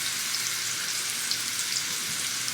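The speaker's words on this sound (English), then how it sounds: "now he just flips over the steak and we're gonna let it cook for another 2 minutes" Steak searing in a skillet, a steady, fairly faint hissing sizzle with small crackles and no talk.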